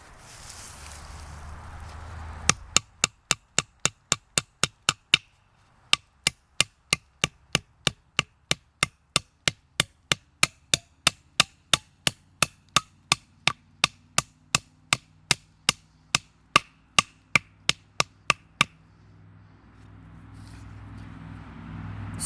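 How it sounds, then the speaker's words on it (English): A Rayovac Indestructible flashlight is used as a hammer on a 2x4 board, with about forty sharp, loud wooden knocks coming in rapid, fairly even succession. A short pause breaks the run before it stops, and quiet handling noise follows. "we're going to use those flats as a hammer to see if this flashlight is really indestructible"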